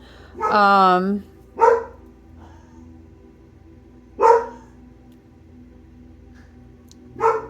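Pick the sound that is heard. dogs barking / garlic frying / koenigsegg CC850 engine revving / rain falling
dogs barking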